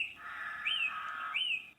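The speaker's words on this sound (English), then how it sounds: "I think I'll go with the chirping birds" Synthetic chirping-bird wake-up tone from a TITIROBA sunrise simulation alarm clock, a steady bright trill with two rising chirps, close and clear with no talking.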